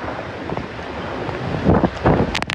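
Strong typhoon wind gusts during a storm in southern Taiwan, with heavy rain, roaring as a steady broadband rush that swells into louder buffeting bursts near the end, with no voices.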